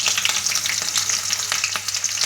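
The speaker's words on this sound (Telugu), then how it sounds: "కొద్దిగా ఆవాలు, 1/2 టీ స్పూన్ జీలకర్ర వేసి కొంచెం వేగిన తర్వాత దీంట్లోకి సన్నగా కట్ చేసుకున్న ఉల్లిపాయలు," Sliced onions and green chillies fry in hot oil with mustard seeds and cumin for a restaurant-style soya curry. A loud, steady, crackling sizzle continues throughout with no talking.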